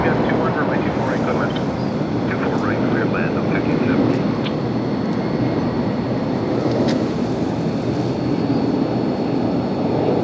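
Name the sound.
Airbus A350 jet airliner flying over LAX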